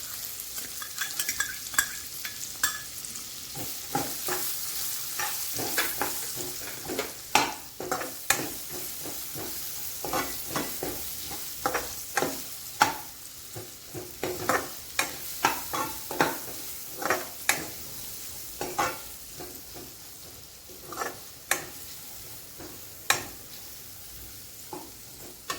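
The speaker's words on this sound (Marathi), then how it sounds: "त्यामध्ये मी आता कांदा टाकून घेते" Onion frying with turmeric in a pan for a Shimla mirch and potato dry sabji, with steady sizzling and repeated sharp scraping stirs of a spoon against the pan, close and alone.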